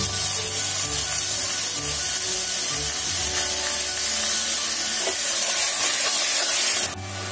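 Pork sears in a heated pressure cooker as a loud, continuous hiss that stays even for several seconds and cuts off abruptly near the end, with no voices.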